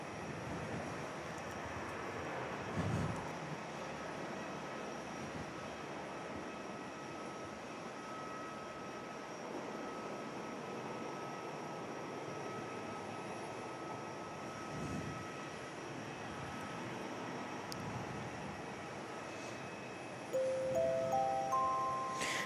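At Perth Airport an airliner, with Virgin E2 jets coming and going, makes a steady distant engine roar that holds for the whole stretch, with faint swells and no talking.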